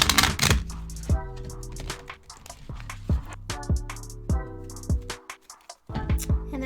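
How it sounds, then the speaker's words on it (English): Tarot cards are shuffled by hand in a string of sharp riffling clicks and soft snaps, close and fairly loud, coming in uneven bursts with short pauses between them. "Let's do some shuffling."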